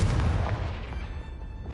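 A Confringo spell blast in Hogwarts Legacy on PS4, a single loud boom at the start that rolls off into a fading rumble over under two seconds, with no talking.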